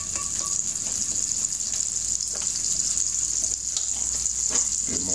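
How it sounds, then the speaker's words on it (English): An omelette fries in butter in a hot pan, giving a steady close hiss and crackle that carries on throughout with no voices. "Pretty perfect angle to shoot my omelette cooking."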